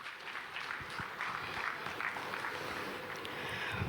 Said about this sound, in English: Another round of applause for General Babangida